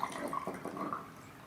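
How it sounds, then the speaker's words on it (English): Hot water is poured into a ceramic kyusu teapot, a soft, quiet splashing and gurgling stream that tapers off after about a second. "we want to take this water and then put it into the kyusu"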